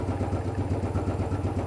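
A Royal Enfield 500 UCE motorcycle engine idles close by with a steady, even thumping pulse, low and moderately quiet, with no voices.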